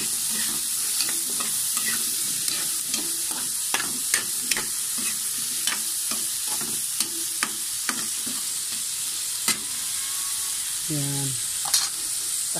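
Food frying in a pan while being stirred, a continuous hiss broken by repeated quick scrapes and clicks of a utensil in an irregular rhythm, close by, with one brief spoken word near the end.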